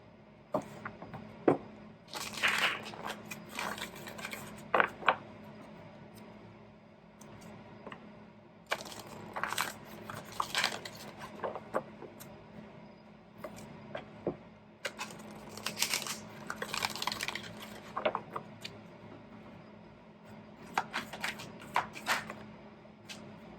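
Rumi oracle cards being shuffled in a quiet room, crisp riffling bursts and light slaps recurring in several clusters, close and fairly faint, with no talking.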